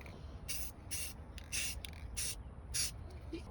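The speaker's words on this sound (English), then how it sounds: "This Rust-Oleum is awesome. Spray upside down," A can of Rust-Oleum spray paint, held upside down and angled, sprays in about six short hissing bursts with brief pauses between them. The bursts are close and fairly soft, and no one speaks.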